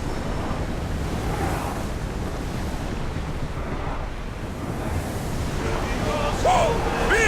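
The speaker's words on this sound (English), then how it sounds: "Feel that wind!" Wind rushes past a sailing ship at speed in Assassin's Creed Odyssey, a broad steady roar mixed with surf and water noise, continuous throughout with faint brief voices near the end.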